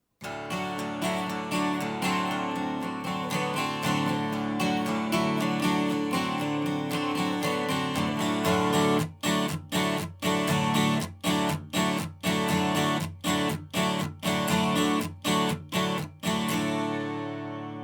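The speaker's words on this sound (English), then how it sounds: "There's just this 12-string guitar that plays a little line that leads us into the intro" A jangly, shimmering 12-string guitar plays a ringing melodic line that ends in a run of sharp, evenly spaced rhythmic strums. There is no talking.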